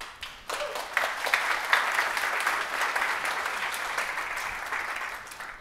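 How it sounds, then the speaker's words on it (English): Applause from the audience at a software conference talk about TypeScript, clapping that swells in quickly and holds steady for several seconds before slowly thinning out. "So you all deserve a big round of applause."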